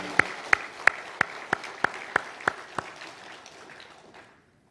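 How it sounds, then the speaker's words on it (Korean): In a church, the congregation claps in unison, about eight sharp, evenly spaced loud claps over a softer bed of crowd noise, then a quick fade to silence. "우리 박수 한번 영광을 드리겠습니다."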